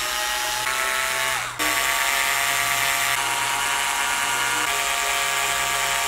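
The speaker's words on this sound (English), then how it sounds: "I'm gonna back the screws out and set the neck up" A power screwdriver backs screws out of a guitar neck with a continuous high whine that dips briefly and then resumes, close and loud.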